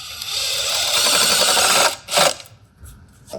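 A power driver whines steadily for almost two seconds as a screw goes into a 2x4 for a dragon fruit trellis, then stops and gives a short second burst, followed by a faint tap.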